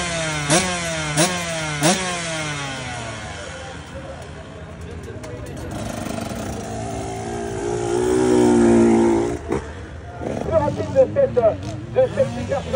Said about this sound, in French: c'est un moto d'entraînement de supercross